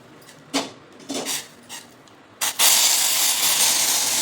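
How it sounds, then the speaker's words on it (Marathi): Water boiling hard in a pot for finger millet papad dough: a few metal clanks come first, then a loud, steady bubbling hiss of steam takes over and holds to the end. "पाण्याला एकदम खळखळ उकळी आलेली"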